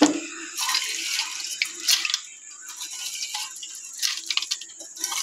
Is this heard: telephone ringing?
no